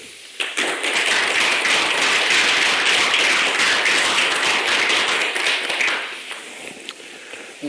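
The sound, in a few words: audience applause welcoming Roberto Bolaño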